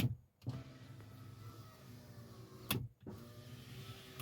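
A Volvo electric car window motor whirs steadily at close range, running against an old door rubber, with a clunk at the start and another partway through as it stops and restarts.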